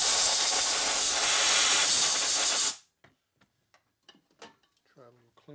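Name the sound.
air blowing out holes in a knucklehead motor case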